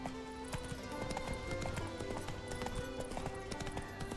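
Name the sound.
horse Roach galloping in video game The Witcher 3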